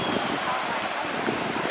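Fast-flowing floodwater pours past after a levee broke in Edwards, a steady, loud broadband rush with wind buffeting the microphone throughout.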